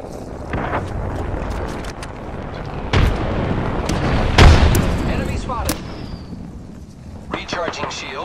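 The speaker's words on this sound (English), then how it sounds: "Airstrike!" Airstrike bombardment in the Apex Legends battle royale game: a dense barrage of booming explosions and gunfire-like blasts, with a heavy impact near the middle and scattered crackling hits toward the end.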